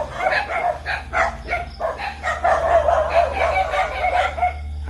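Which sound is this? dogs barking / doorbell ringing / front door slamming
dogs barking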